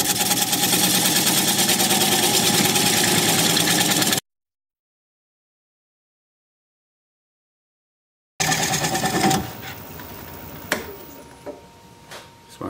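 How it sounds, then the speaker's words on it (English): Wood lathe spinning at about 600 RPM while a bowl gouge cuts away a wooden tenon: a loud, steady motor drone with cutting noise stops abruptly for several seconds, then resumes more unevenly with scattered knocks and clatter. "Turn the speed up to about 600 RPM"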